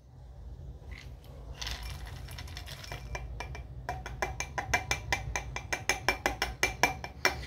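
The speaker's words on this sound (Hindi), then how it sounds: "डाल के खरल में गुटाई करें" Tablets being pounded and ground in a kharal mortar, building from scraping into a fast, steady series of sharp close knocks and grinding clinks, with no speech.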